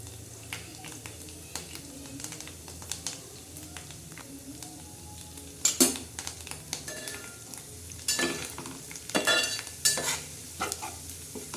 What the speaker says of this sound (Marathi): आता हे बघा मस्तपैकी त्याला तडका बसत आहे